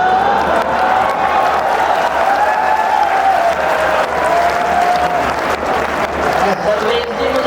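A large audience at a Hindi poetry recital in Delhi breaks into loud, sustained applause with scattered cheers, a dense, continuous wash of clapping while a voice carries on over it.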